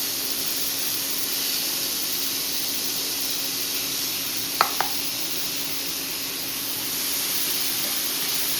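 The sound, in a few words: onion and tomato sizzling while frying in pan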